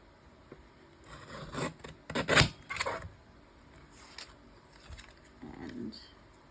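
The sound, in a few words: trimming paper for a stamped card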